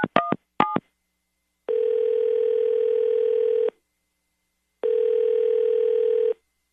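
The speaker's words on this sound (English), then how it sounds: "I'm going to dial him right now" A telephone dials a call with a few quick keypad tones, followed by two long, even ringback tones separated by a silent gap.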